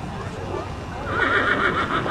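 A horse at a riding clinic gives a short neigh near the mic, rising and louder toward the end of the clip.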